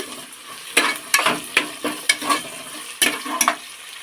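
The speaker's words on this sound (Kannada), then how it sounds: "ಕೊತ್ತಂಬರಿ ಮತ್ತು ಈರುಳ್ಳಿ ಸ್ವಲ್ಪ ಫ್ರೈ ಮಾಡೋಣ" Coriander and onion frying in a pan with curry leaves and mint for vegetable pulao, with bursts of sizzling and scraping stirring strokes repeating at an uneven rhythm, close up and with no voices.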